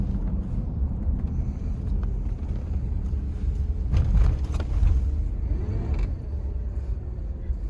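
A 1994 Oldsmobile Silhouette minivan on a test drive gives a steady low rumble of engine and road noise, swelling briefly midway, with no talking.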